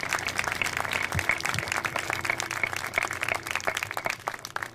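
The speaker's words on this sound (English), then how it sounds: "One more round of applause for Hayley." Applause from the audience at a Native American graduate honoring ceremony, scattered and moderately quiet, with distinct individual claps over a low background hum.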